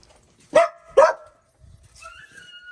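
Two sharp dog barks in close succession, followed by a soft, high whimpering whine after a brief pause.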